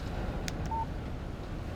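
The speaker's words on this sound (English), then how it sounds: "Text message from Barry." A short phone text-message alert in the Alan Wake video game sounds as a brief electronic tone over a steady low background hum, quiet and alone without talk.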